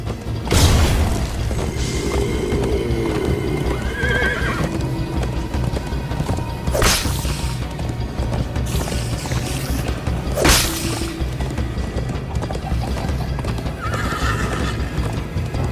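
Steady galloping hoofbeats under a continuous rushing background, with a couple of sharp whinnies and a few heavy thuds, from a horse in the video game Minecraft: Story Mode.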